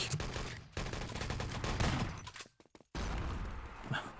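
Rifle and gunfire in the video game Enemy Territory during a 6on6 LAN tournament match, rapid close bursts of shots, a brief drop to near silence, then firing resumes.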